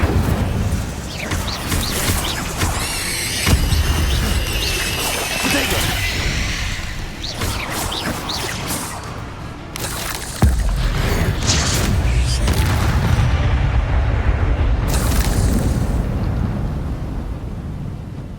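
Incendio fire spell in Hogwarts Legacy, a series of loud roaring bursts and booms with creaking mechanisms and crashing clatter over a continuous dense game soundscape.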